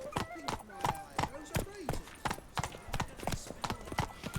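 Hooves of Roach, the horse in The Witcher 3, clop in a steady, even rhythm of sharp close strikes, with faint game ambience and occasional voices beneath.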